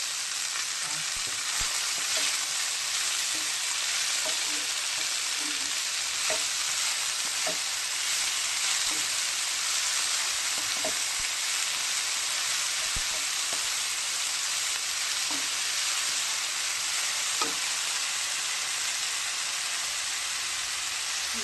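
Leafy greens, washed and chopped, sizzle and crackle steadily in a hot frying pan, a dense continuous frying hiss with small pops and stirring scrapes, close and loud throughout with no talking.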